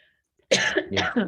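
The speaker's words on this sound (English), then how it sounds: "go while I have a coughing fit" A short burst of harsh coughing, close and loud, three rough coughs in quick succession after a moment of silence.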